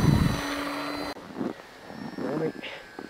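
A Kyosho Calmato RC model airplane on a shaky maiden flight gives a thin, steady engine whine outdoors, partly under several people talking.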